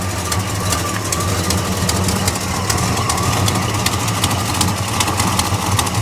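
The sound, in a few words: exhaust leak at front header of idling 1969 Chevelle SS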